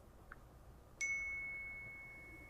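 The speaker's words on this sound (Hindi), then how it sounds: "यहाँ से मैं ये आईफोन का नोटिफिकेशन है, इस पर क्लिक करता हूँ और देखते हैं कैसा है" An iPhone message notification tone chimes once, a clean bright ding that rings on and slowly fades over a quiet background, with no talking.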